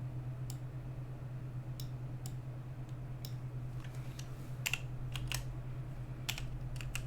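Keystrokes clatter on a computer keyboard in scattered bursts of sharp clicks, moderately close, over a steady low electrical hum.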